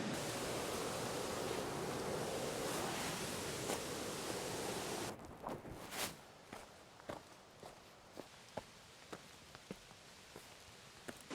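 A waterfall's rushing, hissing roar fills the first half, then cuts away to quiet with scattered nearby footsteps.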